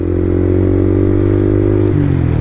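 A motorcycle on a Sunday group ride in Medan revs hard with a loud, steady engine drone close by, its pitch dropping near the end, with no voices.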